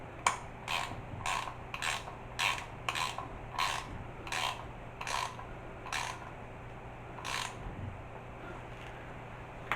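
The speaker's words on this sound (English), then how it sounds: "I can't get the ratchet on." A ratchet wrench tightening a connection on an off-grid solar power system, heard as a near series of short, rhythmic ratcheting bursts, about a dozen clicks, some spaced unevenly, over a low steady hum.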